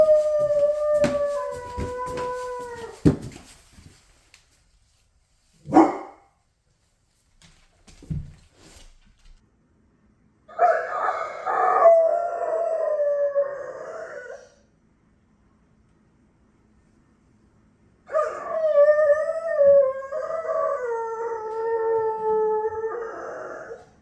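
A dog howls outdoors on a mountain at night, two long wavering howls separated by silence, fairly close and loud, with a few sharp knocks and rustles before them.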